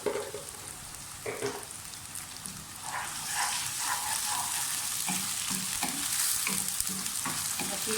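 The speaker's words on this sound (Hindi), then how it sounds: "अच्छी तरह से भुनाई कर लें।" Onions browned to medium frying with garlic ginger paste in a pan, a constant close sizzle with occasional scraping stirs of a spoon, no talking.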